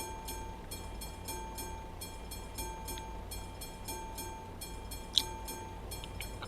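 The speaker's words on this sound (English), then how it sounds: "Yeah, there's another train, isn't there?" A steady rumbling video game train in Euro Truck Simulator 2 passes at moderate distance, with a regular rhythmic clacking of wheels over rail joints and a brief sharp click near the end.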